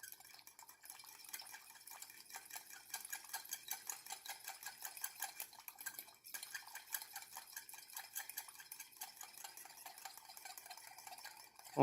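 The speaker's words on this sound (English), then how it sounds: "just go ahead and mix it all up so it's all combined" Chex Mix being stirred with BBQ seasoning in a dish, a steady run of soft, close scraping and rustling strokes that carries on for several seconds with no talking.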